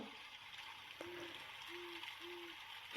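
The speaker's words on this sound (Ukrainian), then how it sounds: "Сови, сова." Three soft, low owl hoots spaced about a second apart over steady background hiss, with no talking.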